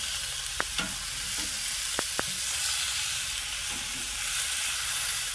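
Steaks sear on a Kamado Joe grill, a steady, dense sizzle and hiss held at an even level throughout, broken by a few faint ticks and pops.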